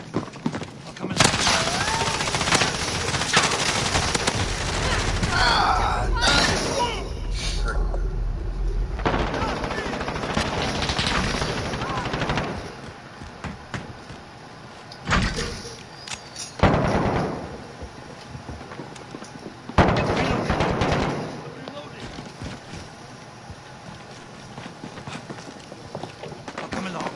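Gunfire and battle noise from a Call of Duty team deathmatch in Warzone play across loud, dense stretches, with bursts and booms cutting in. A player's voice talks over the game sound throughout.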